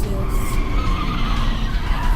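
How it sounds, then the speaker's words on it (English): Stolen Dodge car on a Detroit road, loud continuous skidding and tire squeal with engine noise close by for about two seconds, no speech. "A stolen Dodge crashes in Detroit."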